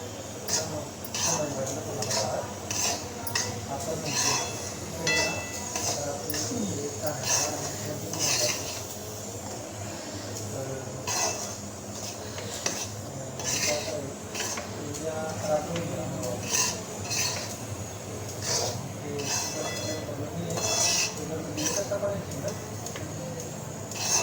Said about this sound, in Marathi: रवा टाकते आणि जास्त भाजूनही द्यायचा फक्त कच्चापणा जायला पाहिजे त्याचा